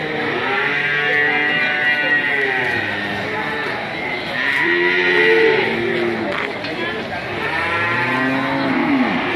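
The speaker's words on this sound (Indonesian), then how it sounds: "ada sapi-sapi besar-besar seperti ini, sapi-sapi lemon seperti ini di Pasar Sapi Ambar Ketawang" Big lemon-breed cattle at the Ambar Ketawang market moo repeatedly, several loud bellows overlapping in a busy crowd of animals, with people talking underneath.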